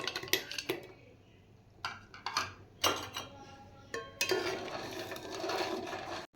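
Dry cardamom pods shaken and stirred in a pan give off intermittent bursts of light rattling and clinking, with short quiet pauses between the stirs.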